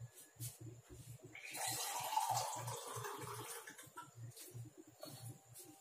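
Water pours steadily into a pot for an herbal decoction, a rising splashy rush in the middle over a repetitive low thumping background beat.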